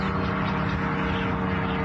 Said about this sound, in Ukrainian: Безпілотник летит в сторону Руксин